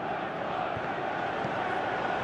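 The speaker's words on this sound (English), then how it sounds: "Crowd appreciates good football all round there." A football stadium crowd in eFootball 2023 on PS3 gives a steady, broad roar of appreciation, a dense, continuous wash of many voices at moderate volume with no single voice standing out.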